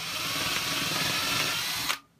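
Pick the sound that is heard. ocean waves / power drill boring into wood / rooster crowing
power drill boring into wood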